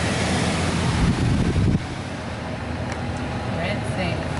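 Water sprays over a car at a Ryko Radius HT automatic car wash at a gas station, a heavy wash-like rush that eases after two seconds, heard from inside the car with people talking.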